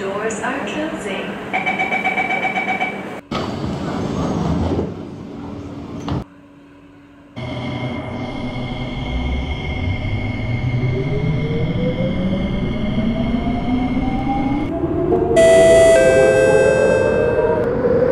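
In the OpenBVE train simulator, a C151A set sounds a door-closing chime over recorded announcements, followed by a thud and a brief quiet. A rising electric motor whine then builds as the train pulls away.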